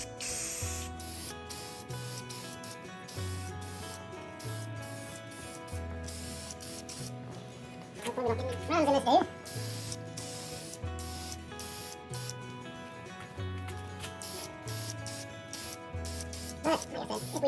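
Spray paint hisses in repeated short bursts onto a Tamiya Blitzer Beetle RC car body, close up, over steady background music.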